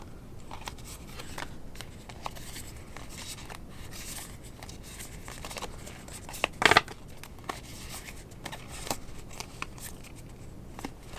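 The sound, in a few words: shuffling rubbery tarot cards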